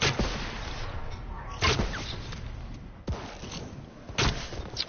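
Gunfire in Fortnite near Loot Lake during the Thanos mode: four sharp, loud shots spaced about a second apart over a noisy game background.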